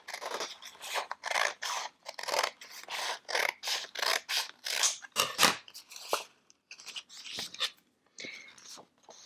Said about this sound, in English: I'm going to use my scissors and I'm going to cut out the strips along